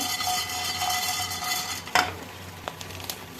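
A spoon stirs whole spices such as cinnamon in a dry pan while garam masala roasts, giving a soft continuous scraping rustle that ends in a few sharp clinks of metal against metal.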